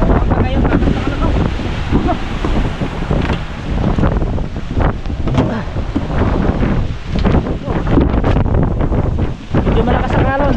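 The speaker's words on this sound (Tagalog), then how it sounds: "Medyo malakas ang alon." Strong sea waves churn and wind buffets the microphone on a boat at sea as a storm rolls in at dusk, a loud, continuous roar with surging swells throughout.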